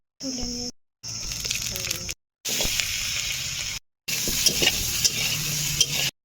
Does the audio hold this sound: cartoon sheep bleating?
no